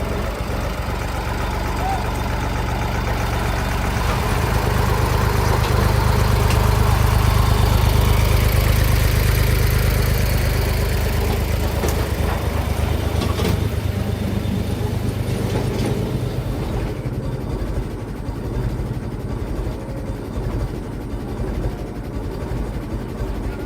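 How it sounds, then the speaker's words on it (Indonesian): A locomotive travels downhill on a steep, tilted rail line, its heavy engine droning steadily and loudly throughout, swelling slightly midway before easing off near the end. "Lokomotif turun kembali teman-teman, melewati jalur ram ini."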